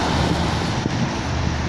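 Wind blows outdoors in a steady, loud rush of broadband buffeting against the microphone, with no voices and no other distinct sounds through the short stretch.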